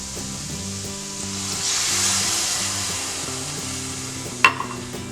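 Black garlic soufflé base of flour, butter and milk stirred in a pan, a soft steady scraping and sizzle over faint background music, with one sharp clink near the end.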